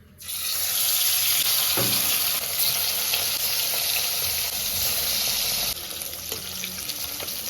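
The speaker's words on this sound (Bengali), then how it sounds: "তেল গরম হয়ে গেছে বেরেস্তা ভাজা তেলে এবার মাছগুলো ভেজে নেবো" Fish slide into hot oil already used for frying onions and erupt in a loud, dense, hissing sizzle that starts abruptly and holds steady, with a faint clink or two and no voices.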